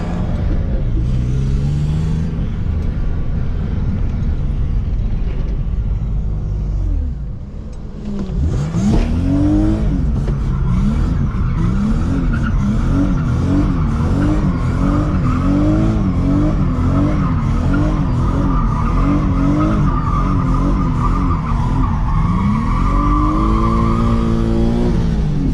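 A yellow BMW E36 on a road test revs hard and skids, its engine note rising and falling in repeated sweeps over loud tyre squeal and rumble, close and continuous for most of the stretch after a brief dip.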